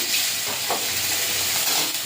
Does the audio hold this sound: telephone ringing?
no